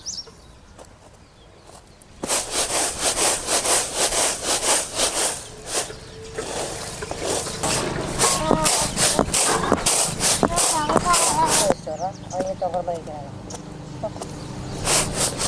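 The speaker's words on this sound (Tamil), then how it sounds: "உடச்சி நல்லா சுத்தம் பண்ணி எடுத்துக்கலாம்." Coriander seeds are crushed and cleaned by hand, making a run of close, rhythmic rubbing and rustling strokes that begins after a quiet start, while a person talks over it.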